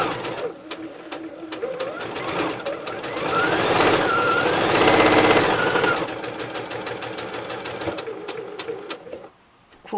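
A sewing machine stitches a flying geese quilt block in a steady, fast mechanical run, loud and continuous for most of the clip before slowing and stopping near the end, with faint voice underneath.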